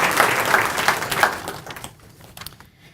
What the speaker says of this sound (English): let's give a round of applause to the support of these fine organizations